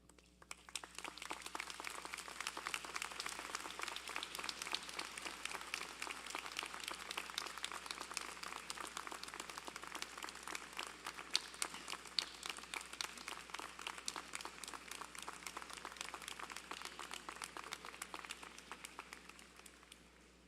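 Audience applause at a University of Guelph convocation ceremony: dense, steady clapping from a large crowd that holds an even level for about twenty seconds before easing off slightly at the end.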